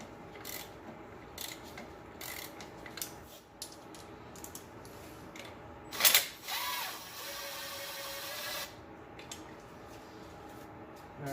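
Wrench loosening the alternator bolts on a 1998 JDM Subaru Legacy 2.0L wagon, scattered metallic clicks and scraping with one sharper grinding burst midway, close but fairly quiet, no voices.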